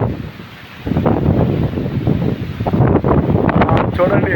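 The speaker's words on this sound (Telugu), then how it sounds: "ఈ కొండ మీద ఉన్న గాలి చూడండి, తీవ్రమైన గాలి" Strong wind gusting across a hilltop, loud buffeting rush against the microphone that swells and roars continuously, with a voice faintly talking beneath it.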